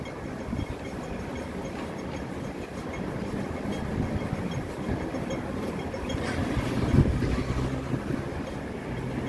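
A boat at sea off Wanchai rumbles steadily, with loud wind buffeting the microphone throughout in a dense, unbroken roar.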